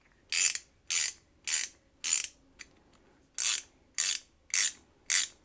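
A WORKPRO straight reversible ratchet wrench, SAE set, clicks close by in eight quick bursts of ratcheting, each a short dense run of pawl clicks with a brief pause between, and one tiny tick in the longer gap.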